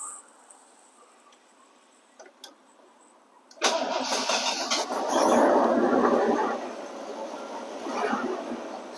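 A Ford Econoline camper van engine is cranked after a few faint clicks, catches abruptly and settles into a loud, steady running idle that swells slightly, with no one talking.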